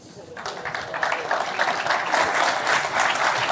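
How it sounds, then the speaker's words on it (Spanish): An audience at a Peruvian business forum welcomes a speaker with applause that starts faintly and swells into steady, loud clapping from the crowd. "Un fuerte aplauso para Marcelo."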